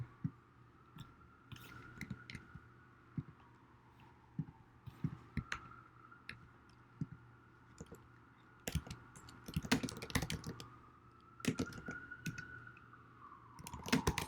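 Keys clatter on a computer keyboard in irregular, fairly quiet clicks and short flurries of typing, over a steady low hum, with no talking.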